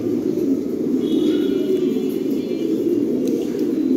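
Fancy pigeons cooing steadily at a farm in Bangladesh, a dense, continuous low murmur of many birds close by with no talking.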